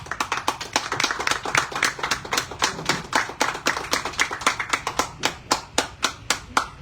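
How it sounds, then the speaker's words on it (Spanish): Hand claps ring out in a steady, fairly sparse rhythm, sounding like a small group applauding close by at a bookshop event in Peru, with no voices. "por favor, recibamos con fuertes aplausos al compañero y amigo de letras, Lewis Frank Calderón."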